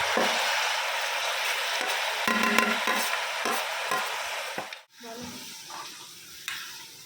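Spoon stirring ground coconut and nut paste in a pan over low heat, soft scraping strokes repeating at an irregular rhythm over a faint sizzle, close by, with a brief pause near the end.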